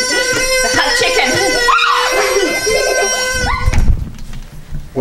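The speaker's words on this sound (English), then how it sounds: "It's a giant hug me chicken. Does it scream? Yeah." Giant plush hug-me chicken toy letting out a long, loud, wavering scream that lasts several seconds, with a low rumble and a brief burst at the end.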